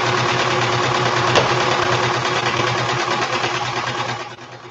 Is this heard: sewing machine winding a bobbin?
yes